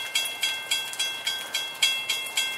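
A train passing in cold rain, with a steady clickety-clack of wheels hitting rail joints in an even beat of about four per second, loud and near against a bright hiss, no voices.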